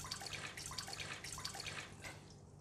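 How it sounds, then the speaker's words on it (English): Water pours into a cooking pot for tofu vegetable soup as a soft, continuous splashing and trickling that stays faint and steady, then eases off toward the end. "So I'm going to put in the water in the pot."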